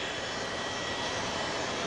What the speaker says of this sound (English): Those are the engines, and they push the airplane through the air.